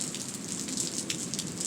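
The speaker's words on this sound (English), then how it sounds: "even with the thunder and lightning and the rain, which I'm sure you can hear" Heavy rain falls outdoors during a thunderstorm, a steady moderate hiss with brief splashy surges of drops and no speech.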